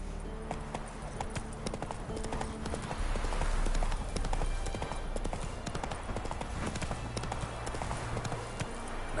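Horse hooves clip-clop at a steady trot in The Witcher 3, a continuous rhythmic clatter throughout, layered over game ambience and low music tones.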